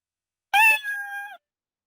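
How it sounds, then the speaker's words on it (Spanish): The default Scratch cat meow sound effect plays once: a single short, clear, tonal meow, loud and isolated against silence. "En este caso es el miau Scratch."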